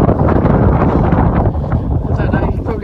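Strong Storm Eunice wind buffets the microphone near an abandoned boat under restoration, a loud continuous rumbling roar with gusts; a voice speaks briefly under the wind.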